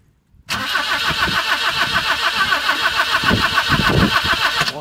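A car engine turns over and catches without throttle in minus 5 cold after sitting unused for days, then settles into a loud, close, slightly uneven idle.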